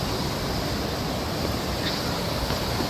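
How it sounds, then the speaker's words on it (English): Steady broadband rushing of a forest waterfall, a continuous close wash of falling water with no pauses and no voices. "We're here at the waterfalls"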